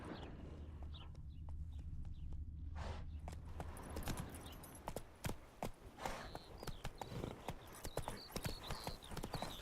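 A horse's hooves clip-clop in a quick, steady rhythm of sharp knocks in The Witcher 3: Wild Hunt, rising after an early low rumble, with faint birds around.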